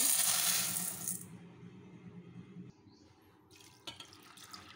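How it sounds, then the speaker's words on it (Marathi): Chana dal is washed in water in a cooking pot: a loud splashing rush of water at first, then quieter sloshing and a few small clinks and trickles, close by with no talk. "ही डाळ आपण धुवून घेऊ आणि याच्यामधलं हे पाणी काढून टाकू"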